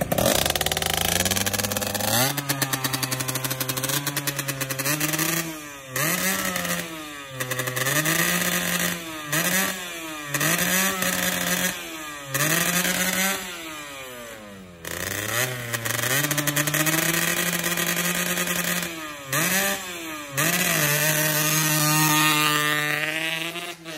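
An RXZ motorcycle engine revs repeatedly in short bursts, reaching around 11,000 to 12,000 rpm, rising and falling in pitch with brief drops between, close and loud throughout.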